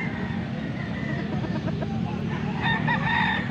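A prized 14-month-old bull stag gamecock crows at close range, a sustained harmonic call in the middle of the clip over steady background noise, with faint murmuring nearby.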